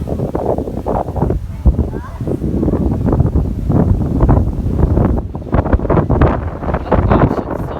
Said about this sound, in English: Oh gosh, it's still pretty windy though.